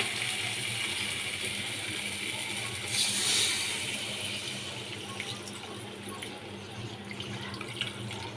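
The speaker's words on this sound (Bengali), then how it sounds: "এবার এখানে আমি 1 বাটি জল দিয়ে দেবো।" Water poured from a bowl into a pan of egg and potato curry gives a steady splashing, running-water wash that swells briefly partway through, heard close and alone.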